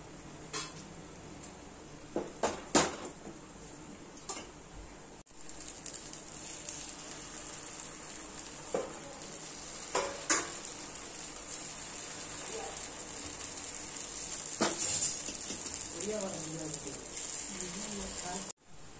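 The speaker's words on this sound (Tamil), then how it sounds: "இப்போ நம்ம ஒரு பணியாரக்கல் வச்சுருக்கேன், எண்ணெய் ஊற்றிருக்கேன். இப்போ நம்ம மாவு ஊற்றிக்கலாம்." Rice batter poured into an oiled paniyaram pan for traditional rice and sorghum breakfast dishes, a steady close hiss of frying with scattered clinks of utensils against the pan.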